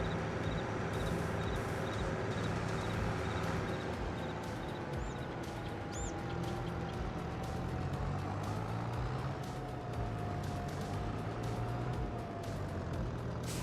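Kubota M8 tractor with rear dual wheels in Farming Simulator 22, a steady droning diesel engine hum running continuously at a constant level throughout, close and fairly loud with no talking.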